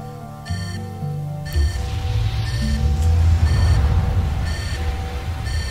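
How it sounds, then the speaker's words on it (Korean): Low-stamina warning beeping in the Spore video game, repeated electronic beeps sounding in short bursts over a steady game background rumble. "삐삐거려가지고 시끄러워가지고 뭔 소리냐 했더니 체력 부족해서 이러네"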